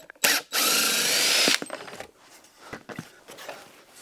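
A powered screwdriver whirs loudly for about a second, backing long screws out of pocket door track covers, then falls to a few faint clicks and handling knocks nearby.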